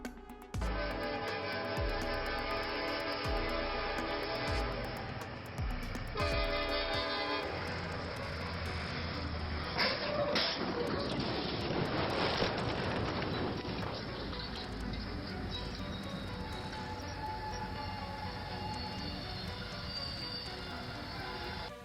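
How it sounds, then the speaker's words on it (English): A train horn blares in long sustained blasts, then a heavy roaring rumble and crash as the train hits a truck stuck on the tracks swell up and trail off into continued train noise. "A truck got stuck on the tracks, and the train crashed into it."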